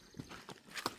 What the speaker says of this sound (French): Tu veux que j'avance le cheval?